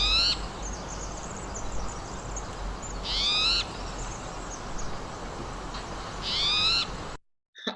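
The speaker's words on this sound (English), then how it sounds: "this is the main noise that we're going to learn as ornithologists to practice listening for a spotted towhee" A spotted towhee calls several times, short buzzy harsh notes repeated every few seconds over a steady outdoor background hiss.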